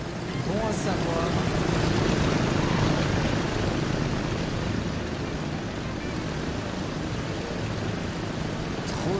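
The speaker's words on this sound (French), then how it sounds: "Il y a un embouteillage d'avions" Aircraft in the Transport Fever video game, with several planes crowded on one line producing a dense, continuous engine roar and whoosh that fills the scene at steady loudness.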